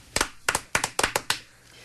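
On a Korean radio show, a few people clap in a quick, crisp run of about five or six separate claps, close and distinct, with a brief quiet tail and no talking.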